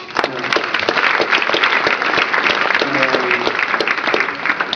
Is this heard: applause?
yes